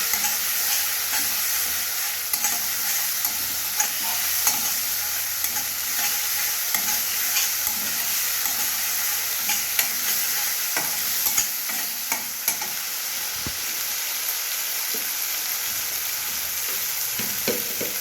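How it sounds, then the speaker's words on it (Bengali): Ground cumin, coriander, turmeric and Kashmiri chilli powder fry in oil while being stirred, giving a close, steady sizzle with frequent scraping and clinking of the spoon against the pan. "এবার মশলাটা একসঙ্গে ভালোভাবে কষে নেব।"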